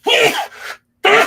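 Two loud, close human sneezes, the first drawn out with a breathy trailing release, then a brief silence before a second sharp burst, in an indoor live talk setting.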